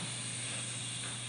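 A voice imitates steam hissing out of valves, producing a faint, continuous broadband hiss held steadily for just over a second.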